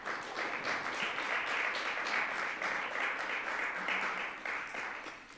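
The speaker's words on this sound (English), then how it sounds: "So a big round of applause for all of these sponsors." A summit audience applauds its sponsors at a rare-disease conference, a dense, continuous round of clapping from a sizable crowd in a hall, fairly distant and steady, tapering slightly at the end.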